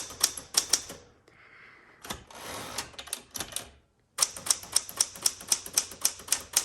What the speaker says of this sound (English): Typewriters are just so fun to use on.